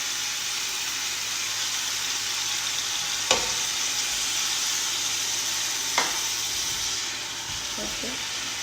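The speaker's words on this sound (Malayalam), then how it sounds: "ഗ്രേവി ബാക്കിയുള്ളത് അതിൻ്റെ മുകളിൽ കൂടെ അങ്ങനെ ഒഴിച്ചു കൊടുക്കുന്നുണ്ട്" Masala gravy being poured over chicken in a pressure cooker for masala shawaya, with a constant hissing sizzle throughout and two sharp clinks of utensils against the pot.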